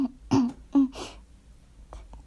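A Korean audiobook narrator of The Little Prince acts out a flower's feigned coughs, a voice imitating two or three short, forced throat bursts delivered close and clear, then quiet.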